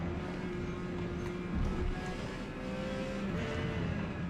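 Porsche 956 race car in the P class of Forza Motorsport at Homestead Miami, a steady loud engine drone near top speed on the back straight, held constant with a slight swell midway and no voices.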